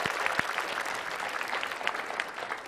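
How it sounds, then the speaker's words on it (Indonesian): Studio audience applause at an Indonesian TV show, a dense steady clapping from a crowd filling the room, with a few sharper louder claps standing out near the start. "Tepuk tangan untuk para penonton di studio"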